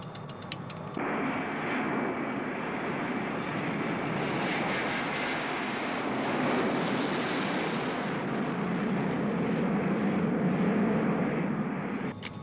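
A small airplane flies with its engine droning steadily for the whole stretch. The broad, even roar stays close and loud, with a brief sharper rattle at the start and no voices.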